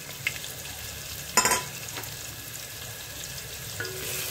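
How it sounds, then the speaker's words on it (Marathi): Sliced onion and curry leaves fry in a pan with a soft continuous sizzle, broken by one brief louder stirring scrape near the middle and a few faint clinks. Nobody speaks. "कांदा जरा तांबूस होईस तोपर्यंत भाजायचा आहे चांगला"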